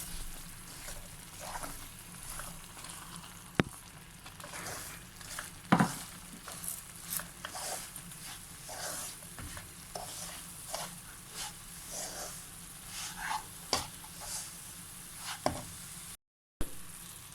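Coconut burfi mixture with semolina stirred in a pan, repeated scraping and soft sizzling strokes in an uneven rhythm, close by and moderately loud, with no talk.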